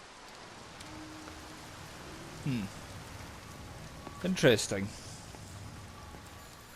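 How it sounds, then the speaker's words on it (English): Rain pours steadily in Everybody's Gone To The Rapture, a soft continuous hiss throughout, while someone speaks briefly and a couple of short electronic tones cut in. "Pouring the rain now."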